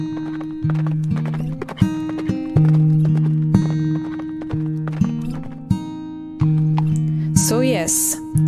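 Horse hooves clip-clop steadily in Warsaw, Poland, the hoofbeats mixed under sustained music, with a bright whinny-like burst near the end.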